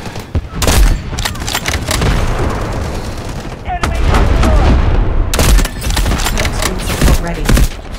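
Artillery and gunfire in Delta Force: Hawk Ops: loud, dense battlefield barrage of repeated sharp shots and heavy booms, with rumbling impacts throughout and voices faintly under the noise.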